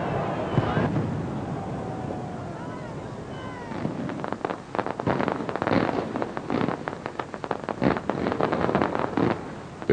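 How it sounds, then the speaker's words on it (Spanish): A fireworks display at the Nit del Foc festival night in Valencia, with dense crackling bursts and rapid popping that build into a thick, continuous barrage over a roaring crowd-like background. "una noche en la que se puede ver uno de los mejores castillos de fuegos artificiales de todas las fiestas"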